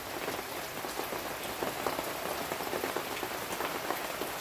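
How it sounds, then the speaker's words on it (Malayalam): Rain falls steadily on surfaces, giving a continuous patter with scattered louder drops and no voices. "ശങ്കരൻ മഴ നോക്കിയിരിക്കുക."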